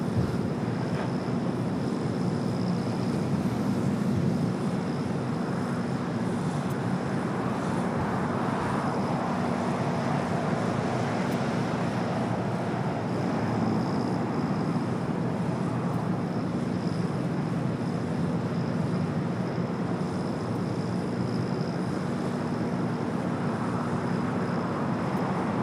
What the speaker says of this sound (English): the United Dreamliner up next for arrival